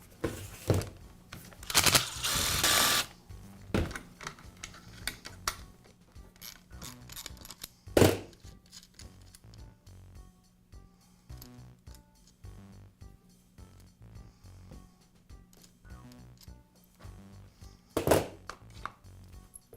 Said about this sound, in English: I'll begin by removing the cover from the handle.